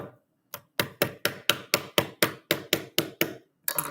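A hammer taps Mould King building bricks together in about a dozen sharp, evenly spaced knocks, close and clear, with no talking, then a last cluster of taps.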